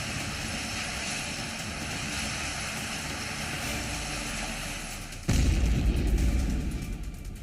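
A burning Jeju Air passenger jet returning from Thailand speeds down a runway while landing in South Korea. A steady, loud roar suddenly bursts into a heavier, deeper rumble that then slowly eases.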